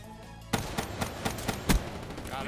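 Gunfire in Call of Duty Black Ops 3 multiplayer, a run of roughly seven sharp evenly spaced shots, moderately loud over a low game ambience with no talk.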